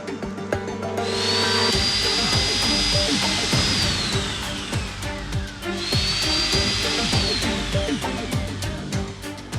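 A power drill boring holes into a suitcase whines up to a high pitch and winds down twice in a row, up close and loud, with scraping and clattering underneath.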